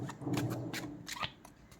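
Tarot cards being shuffled by hand, a few quick papery riffles and slaps close up, short and moderately loud.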